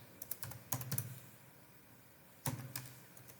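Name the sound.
typing on a computer keyboard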